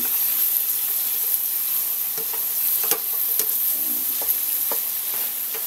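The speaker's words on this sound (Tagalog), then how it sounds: "Saka ko naman siya haluin." Egg being stirred into lagat in a covered pan, with a steady close sizzle and scattered scraping clicks from the utensil, no voices.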